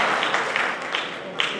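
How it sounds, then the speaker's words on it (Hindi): Applause for a girl honoured at a Bikaner award ceremony, with steady crowd clapping filling the short stretch at a moderate, even level and no speech over it. "तो बच्चियों के लिए जोरदार तालियां"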